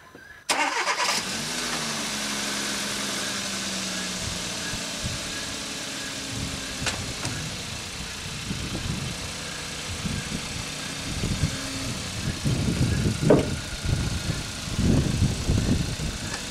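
A 2016 Hyundai Tucson with the 1.6 turbo engine cranks briefly and catches, then settles into a steady, fairly quiet idle with a few louder clunks and knocks nearby toward the end.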